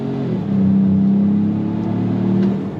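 A 2025 Ford Maverick Lobo truck pulls hard in second gear, its engine droning loud and close with a steady rising hum that holds for a couple of seconds before easing off.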